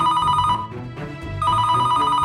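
A telephone bell rings in sustained bursts, a bright trilling ring that pauses briefly in the middle and then resumes, heard on its own with no talk.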